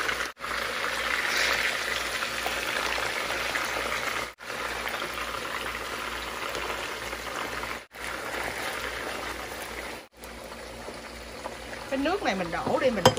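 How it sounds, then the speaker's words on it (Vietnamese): Steady, loud sizzling of hot oil in a pan over high heat, cooking onion and garlic turning golden for a salmon-head hot pot, continuous with brief cuts and a voice speaking near the end. "Để lửa lớn chiên nha quý vị."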